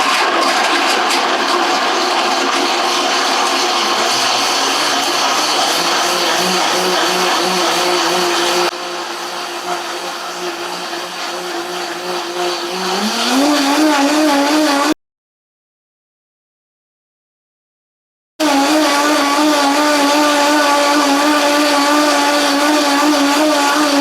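A blender purees a vegan smoked mozzarella cheese mixture, a loud steady motor whine that shifts pitch as the load changes, cuts out briefly, then roars back at full speed.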